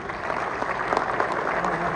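Audience applause at an Urdu poetry gathering (mushaira), a steady wash of clapping that holds at an even level for the whole stretch, with faint voices mixed in.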